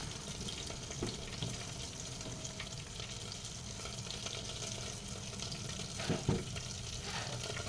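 Chunky corned beef sautéing in a sliding pan on a stove, a steady close sizzle and frying hiss with occasional scraping and stirring clatter, no voices.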